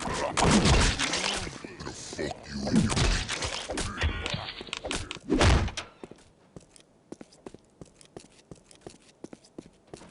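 Blunt heavy thuds of a sledgehammer striking zombies in the game Postal 2: Paradise Lost, dense and loud impacts under game noise for the first six seconds, then sparse faint ticks and clicks.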